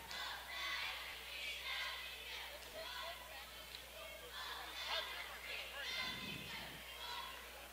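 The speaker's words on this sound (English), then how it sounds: "the crowd behind us showing a little disgust for that call" Crowd noise at a 2015 senior boys' high school basketball game against Clarksville: a faint, distant spread of jeers and shouting voices from the stands, rising and falling in bursts, with a commentator talking nearby.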